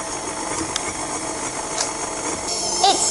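Custard cream biscuit filling being mixed by machine, a continuous close grinding, rattling whir with small clicks, steady throughout without talk.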